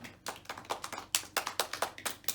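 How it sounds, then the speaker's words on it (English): Applause at a primary school assembly: a short burst of hand clapping from a seated audience of pupils, rhythmic and fairly close, with no talk over it. "Let's give him a round of applause."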